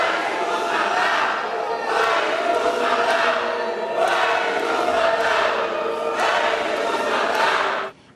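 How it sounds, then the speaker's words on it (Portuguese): Protesters boo and shout in a legislative plenary, a loud sustained crowd roar of jeers and yells in repeated surging waves that cuts off abruptly at the end. "O deputado foi vaiado por manifestantes e o discurso foi interrompido por gritos de ativistas do movimento negro presentes no plenário."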